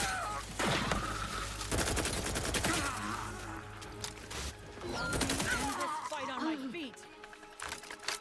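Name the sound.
gunfire from a gun in the video game The Outer Worlds 2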